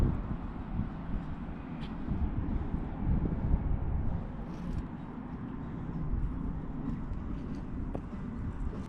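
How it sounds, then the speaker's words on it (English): Low, blustery wind on a hilltop at an abandoned quarry, rumbling into the microphone in uneven gusts, with no one speaking. "It's a little bit windy as you can hear"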